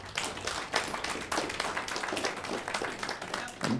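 Audience clapping at a stand-up comedy show for the traditional owners of the land, scattered, uneven claps at modest volume, fairly thin and brief rather than a full ovation.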